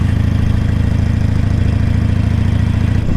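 A Harley-Davidson motorcycle engine runs steadily while riding along the sand at Daytona Beach during Bike Week, a close, constant low throbbing drone.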